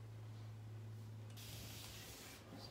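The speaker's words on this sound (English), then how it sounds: "just add the misting spray bottle." A misting spray bottle spritzes water onto fabric on a dress form while paint is worked in, giving a soft, sustained airy hiss that runs from about the midpoint to the end over a steady low hum.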